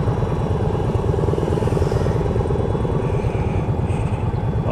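A helicopter flies near an airfield, giving a loud, steady, rapid chopping rotor beat that runs continuously throughout.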